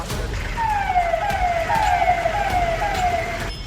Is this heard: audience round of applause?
no